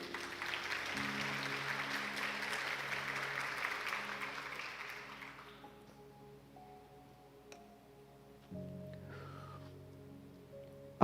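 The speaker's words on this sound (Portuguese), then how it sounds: "Então aplauda Jesus." Church congregation applauding Jesus, a dense spread of clapping for about five seconds that then stops, leaving quiet room tone with a low hum and a few faint ticks.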